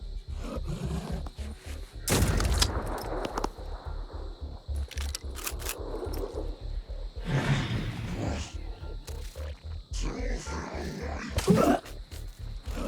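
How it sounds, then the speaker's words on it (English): A shotgun-armed defender fires in the video game Phoenix Point, with several sharp, loud blasts spaced seconds apart over a rumbling, rhythmically pulsing game background. "He just had to reload his shotgun. He's been shooting it that much."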